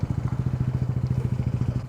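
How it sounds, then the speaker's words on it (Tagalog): A Honda Supra GTR 150 motorcycle's engine idles close by with a steady, rapid thumping pulse while it is moved onto a boat, with no voices over it. "Papasok na ulit ang ating motor."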